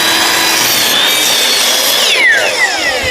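Power saw cutting through the wood of a birdhouse to trim about an inch and a half off, a loud continuous whine with pitch sweeping down near the end, heard alone.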